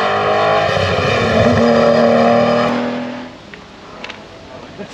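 A Ferrari drives past at the Goodwood motoring event. Its loud engine roars close by for a few seconds, then drops away sharply and fades out. Faint background noise continues afterwards.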